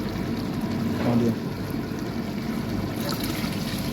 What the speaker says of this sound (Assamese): এতিয়া আমি অলপ পানী এড কৰিছোঁ, গৰম পানী